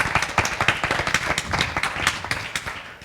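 An audience at a religious talk gives a round of applause: dense, irregular clapping that stays fairly even and close throughout, with no speech over it.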